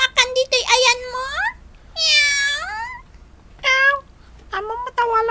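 A cat meows repeatedly indoors, a run of short, bright, rising and falling cries in close succession, loud and near, with a quiet pause between bursts.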